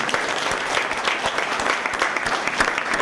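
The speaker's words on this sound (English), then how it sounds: "So I think if we could give our panelists a nice round of applause here." Steady round of audience applause for the panelists at an education reform panel, continuous dense clapping from a seated crowd throughout.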